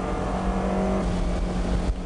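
Race cars on a wet circuit, the Trampio car driven by Nakatani chasing Tsuchiya's M7 car, their engines droning steadily and loudly at a distance with a constant mechanical hum throughout.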